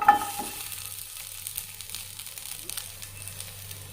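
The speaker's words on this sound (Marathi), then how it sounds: "सुका खोबरा, थोडंसं कांदो, आला आणि लसूण हा सगळा भाजून घ्यायचा" Dry coconut, onion, ginger and garlic roasting in a pan give a soft, steady sizzle with faint scraping stirs, fairly quiet and continuous, with a low background hum underneath.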